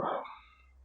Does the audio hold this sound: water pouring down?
no